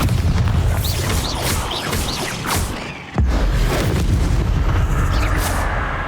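A Bombarda spell explodes in Hogwarts Legacy on the Switch, a dense, loud rumble of blasts that dips briefly before a sharp new burst and continues roaring with no talk.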